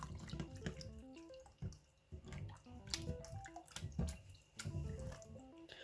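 Watery, runny slime mixed by hand, giving close, continuous wet squelches and drippy sloshing sounds with no talking.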